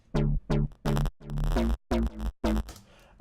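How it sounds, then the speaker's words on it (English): Synth bass line built in Ableton Operator with basic processing, playing short punchy notes in a steady rhythm with brief gaps between phrases, loud and upfront with no other sounds. "And then a bass line that sounds like this."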